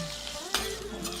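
Green chillies and curry leaves sizzle in hot oil as a tempering, a steady close frying crackle with a brief stirring clatter midway.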